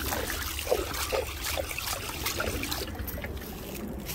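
Water flows and trickles along a canal through a sunlit forest, a steady close babble with light splashes.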